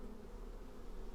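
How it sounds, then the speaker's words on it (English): A continuous, even drone of many bees swarming at a hive of dark yellow honeycomb inside a cave, close and unbroken throughout. "the humming of the bees"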